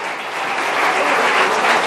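An audience in a church applauds, a dense steady clapping that fills the space continuously and holds loud throughout, with no voices standing out.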